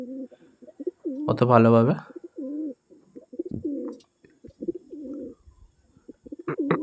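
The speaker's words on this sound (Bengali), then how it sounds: "কালাঙ্কা পায়রা যতটা পাচ্ছি দেখানোর চেষ্টা করছি" Kalanka pigeons coo in low, repeated rolling calls close by, with one brief louder vocal burst, while a person talks briefly over them.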